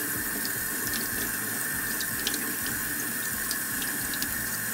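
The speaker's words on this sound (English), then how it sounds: "So I'm gonna actually take it over to spray here to the sink. We're gonna rinse it off." Water from a sink faucet runs steadily and close over a small EDC tool as patina is rinsed off, a continuous hiss and splash with faint drips, no voices.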